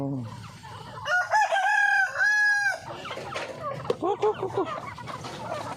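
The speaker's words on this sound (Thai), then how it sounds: "ไก่" A rooster crows loudly nearby with a long drawn-out call among clucking chickens in a backyard, followed by shorter squawks and clucks, with people talking faintly in the background.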